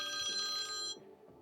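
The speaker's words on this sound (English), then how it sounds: "I'm getting a phone call" A telephone rings for an incoming call with a bright, steady electronic ringing tone lasting about a second before cutting off, fairly faint against low background noise.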